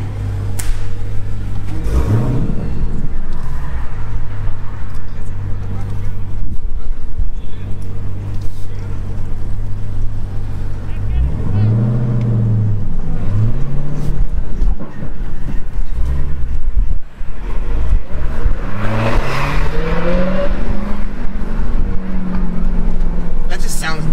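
A Dodge Challenger Hellcat with its mid muffler cut out rumbles loudly at close range, its deep, steady drone swelling into several rising rev sweeps.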